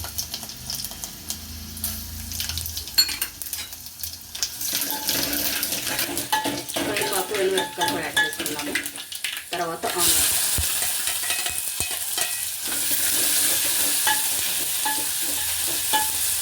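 Garlic and tempering spices for spinach dal crackle and sizzle in hot oil with stirring and scraping, then a brighter, steady hiss as frying intensifies.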